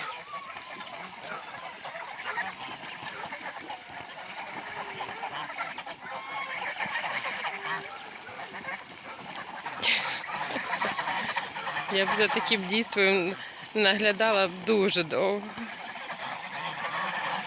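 Domestic geese strolling and bathing near flooded village gardens give a cluster of loud, nasal honks toward the end, over steady outdoor ambience, while someone speaks.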